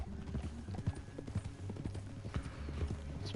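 Horse hooves gallop in Red Dead Redemption 2, a steady, close, rhythmic clip-clop of hoof strikes over the ground, continuous for a few seconds.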